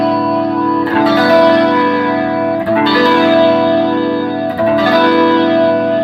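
An electric guitar played through a Source Audio Gemini Chorus pedal rings out in loud, shimmering strummed chords, three sustained strums each swirling with chorus modulation and lingering reverb.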